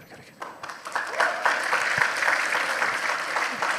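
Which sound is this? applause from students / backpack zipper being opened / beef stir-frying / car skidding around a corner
applause from students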